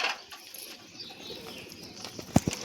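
Pigeons with their chicks in a nesting spot under a tin roof give a couple of short, close coos near the end, over a soft background hush.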